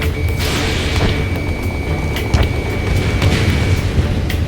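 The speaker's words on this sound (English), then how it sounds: "Strider 3 launching missile." A missile launch in the video game Ace Combat 7, flown with an RQ-4 Global Hawk, heard as a loud, steady jet and engine roar with a sharp thump partway through and a continuous rumble throughout.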